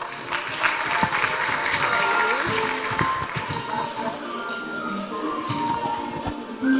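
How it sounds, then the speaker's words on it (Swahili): An audience at a county awards ceremony applauds an honoured official with sustained, fairly steady clapping, some individual claps standing out, and a few faint voices underneath. "Tumpigie makofi tafadhali."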